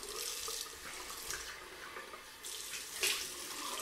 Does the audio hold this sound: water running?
yes